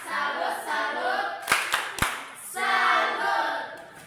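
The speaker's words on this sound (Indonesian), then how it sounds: "Baik, tepuk tangan, tepuk salut dulu untuk kedua kelompok kita, kelompok 1 dan juga kelompok 2." A classroom of children does the rhythmic Indonesian 'tepuk salut' clap. A few sharp, loud claps in sequence sit between stretches of children's voices chanting and talking together.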